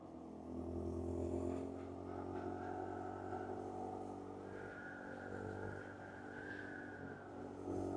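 A Honda Monkey motorcycle riding on a road in the Lake District, with its small engine droning steadily under throttle and a gentle rise in pitch, heard from on the bike over constant wind and road noise.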